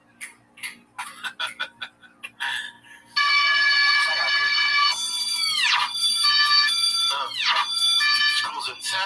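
A school fire alarm rings, starting with quick stuttering beeps and then a loud continuous electronic tone with sweeping pitch drops. Voices talk underneath it.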